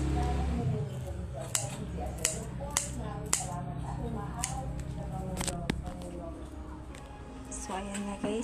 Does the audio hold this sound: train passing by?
no